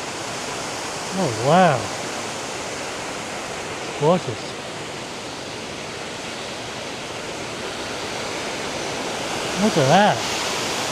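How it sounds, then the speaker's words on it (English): Steady rushing waterfall at Lassen Volcanic National Park, a broad constant roar of falling water, with a voice briefly exclaiming over it a few times. "Look at the waterfall."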